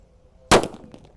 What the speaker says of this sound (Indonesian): Untuk mercon selanjutnya ini namanya petir. Kita nyalakan.